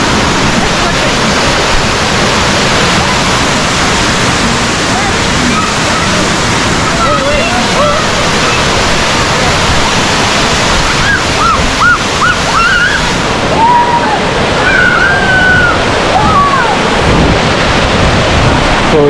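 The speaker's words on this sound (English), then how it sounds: "So the river meet the sea, meet the sea, meet the sea." Loud, constant rushing water where a river meets the sea, steady surf-like roar filling the whole stretch, with a few faint voices and birdlike calls briefly above it.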